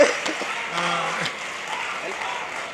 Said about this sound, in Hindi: तालियां जोरदार आनी चाहिए।